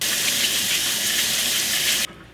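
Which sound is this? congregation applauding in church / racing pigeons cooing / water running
water running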